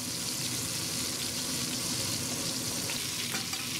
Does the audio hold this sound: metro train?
no